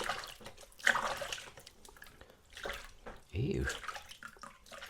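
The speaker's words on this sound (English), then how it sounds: "I'm just going to wash my hands because they are really awful." Running water splashes over floury hands at a sink while making Korean-style crispy chicken wings, rising in short bursts as a person speaks briefly over it.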